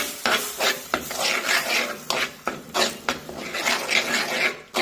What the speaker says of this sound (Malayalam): ഈ പുളിവെള്ളവും ഉപ്പുവെള്ളവും കൂടെ ചേർത്ത് കൊടുക്കാം